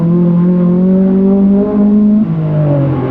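A Ford Escort rally car drives through a bend on a stage, its engine note loud and close, holding a steady pitch before dropping briefly mid-clip and then pulling on again.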